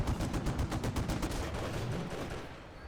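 Machine gun in a Company of Heroes battle rattling off a rapid sustained burst of shots, loud and dense, tapering off at the end with no voices over it.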